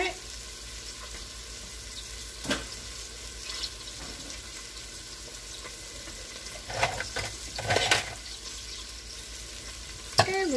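Floured meat sears in a pan for carne guisada, giving a constant low sizzle with occasional louder crackles and clatters of stirring, plus a faint murmur of a voice in the background.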